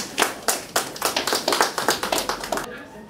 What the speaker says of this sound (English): Can everybody give Sonjedi a round of applause while we do libation?